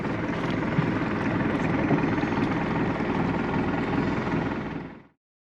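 A boat's diesel engine runs steadily at sea off Guernsey, a dense, even rumbling drone that holds at constant loudness for about five seconds and then cuts off abruptly, with no voices.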